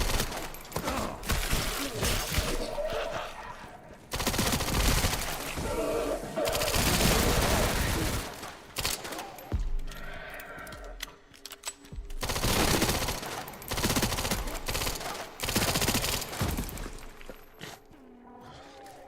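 Zombies armed with guns unleash repeated bursts of automatic fire in Resident Evil 9, loud rattling volleys broken by brief pauses, with shattering impacts and a few thuds mixed in.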